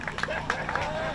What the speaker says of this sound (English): That ain't sound like a freedom cheer right there.